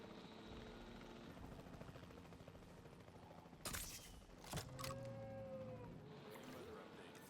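A capture team helicopter in the video game Jurassic World Evolution 3 thrums steadily in the background, broken by a couple of sharp bursts like tranquilizer shots and a brief whoosh partway through.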